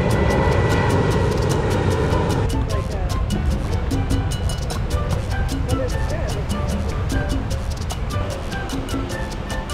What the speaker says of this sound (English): Well, that'll be our jet.